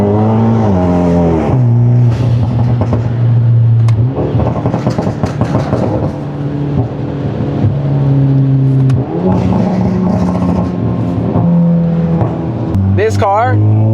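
Hyundai Elantra N with traction control off accelerates hard through several gear pulls, the loud engine note rising and dropping between shifts, with exhaust crackles and pops near the end and a voice talking over it.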